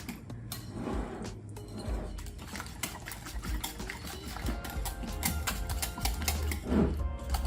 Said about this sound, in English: We're gonna go ahead and give this a little stir.